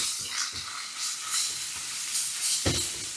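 Food sizzles in a pan over medium heat while being stirred, with soft hissing and scattered scraping strokes, including one sharper clatter late on; no speech.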